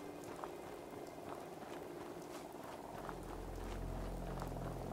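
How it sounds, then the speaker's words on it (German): Steady rain hisses through the Fallout 4 game world, a dense wash of patter and droplets filling the whole stretch, with a low rumble swelling in toward the end. "Jetzt regnet es natürlich"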